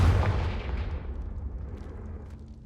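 Fiery spell blast from Confringo in Hogwarts Legacy, a loud booming burst at the start that rumbles and decays over a couple of seconds.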